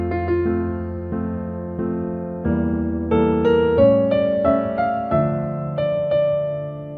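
A melody is played in the harmonic minor scale on a keyboard-like instrument, a clean single line of sustained notes over low held tones, steady and moderately loud.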